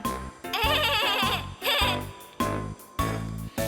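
A cartoon goat bleats in a thin, wavering voice, a small skinny goat in a children's fairy tale, sounding loud and repeated in short bursts over music.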